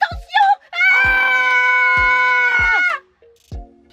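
A man screams loudly during a voice dubbing session, one long strained wail held for over two seconds between shorter vocal bursts, with thumping noises at regular intervals.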